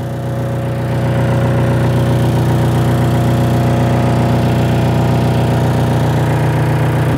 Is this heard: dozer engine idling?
yes